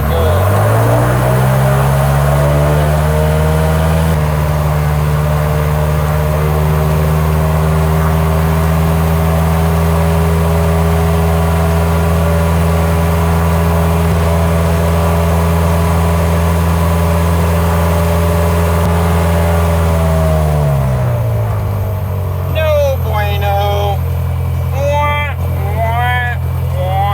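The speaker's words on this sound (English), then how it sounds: "Let's give it a beans and see how high this plane will go." A small propeller plane engine runs at full power in a loud, steady, close droning roar for about twenty seconds, then the sound drops away and a voice speaks.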